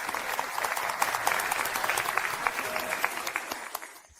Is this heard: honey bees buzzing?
no